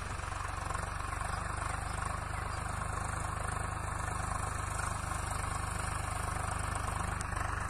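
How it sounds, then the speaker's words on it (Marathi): A tractor engine runs in a farm field where raised beds are being prepared for watermelon planting, a steady mid-low rumble that holds constant throughout without clear approach, fairly loud with no talk over it. "आता बघा ते समोरून ट्रॅक्टर येत आहे"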